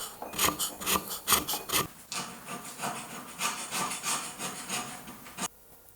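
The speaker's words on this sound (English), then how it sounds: "most productive scraping job I've ever done" A hand scraper rasps across the metal column of a hobby milling machine in quick repeated strokes, a fast burst of short scrapes followed by longer continuous scraping close up, ending abruptly.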